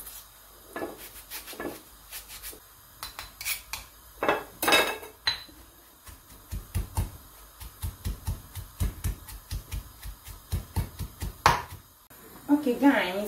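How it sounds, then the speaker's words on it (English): Pepper and onion are pounded in a mortar for Igbo stew, making a run of sharp knocking thuds, clustered and irregular then quickening into a steady beat, heard up close with a voice talking at times. "So pound it in my mortar, small."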